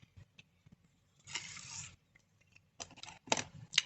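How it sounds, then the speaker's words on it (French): Poor-quality scissors cutting material, a few short scraping snips and one longer rough cut, faint and close with quiet gaps between. "Pas top, ça, comme ciseaux pour couper les..."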